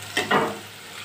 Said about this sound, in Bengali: এখানে পেঁয়াজ, কুচি কুচি পেঁয়াজ, রসুন আর কাঁচা লঙ্কা কুচি দিয়ে দিয়েছি। ওটাকে একটু ফ্রাই করে নিলাম।